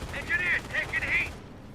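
Gunfire in the Company of Heroes video game: bursts of rapid machine-gun fire, three short volleys in quick succession, then it fades out.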